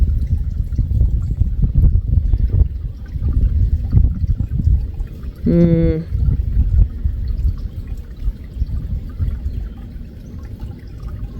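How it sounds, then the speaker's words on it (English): Water trickles and pours continuously underneath a repaired pond, a murky rushing sound with a brief bright whistling sweep partway through. "And I see water running underneath here"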